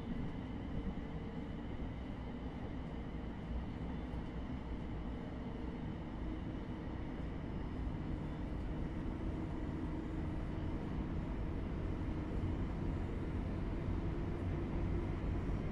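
Class 700 train driving in Train Sim World 3, a steady low rolling rumble and hum from the cab, continuous and even with no talking.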